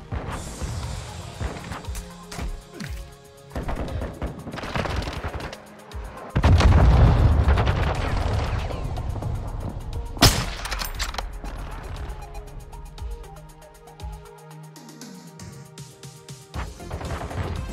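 A video game firefight: a grenade explosion booms with heavy low rumble amid bursts of gunfire and sharp cracks, loud and close, followed by scattered shots and quieter game noise.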